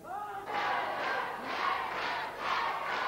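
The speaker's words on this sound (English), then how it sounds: "And the crowd liked that one," Wrestling arena crowd from a 1983 televised match cheers and yells in swelling bursts, a loud continuous roar rising and falling several times.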